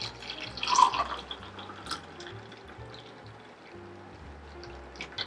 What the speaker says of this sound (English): And then we can pour it into our mug.